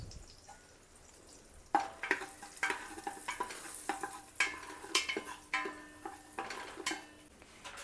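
Cumin seeds crackling in hot oil and melted butter in a pressure cooker, a faint, quiet sizzle joined by irregular clinks and scrapes of a stirring spoon against the metal pot, close.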